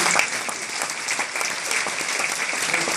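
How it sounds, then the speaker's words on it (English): A large audience at a New Jersey Medical School commencement breaks into dense, sustained applause, an even wash of many hands clapping with no talk over it. "So a big round of applause for patients."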